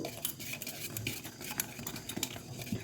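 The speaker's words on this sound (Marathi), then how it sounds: "आता हे पण आपण मिक्स करून घेऊ" A spoon stirs amchur powder and spices into onion-potato bhaji batter in a bowl, giving soft, quick wet scraping and clinking strokes close by.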